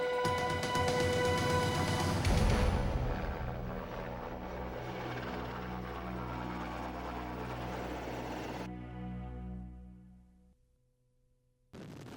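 A helicopter's rotor thumps loudly and steadily, then the whirring drone gradually fades away before an abrupt cut to another low rumble.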